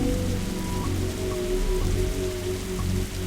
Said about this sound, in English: whenever standing in this rain stops being fun for you